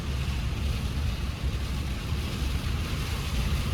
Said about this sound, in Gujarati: પવન બહુ જાજો હે